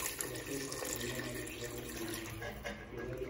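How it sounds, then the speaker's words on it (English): A cup of water poured into a pot of lamb curry with potatoes, a steady close splashing, running-water sound that stays loud and even throughout. "you're going to add one last cup of water"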